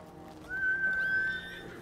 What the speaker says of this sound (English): You have a horse?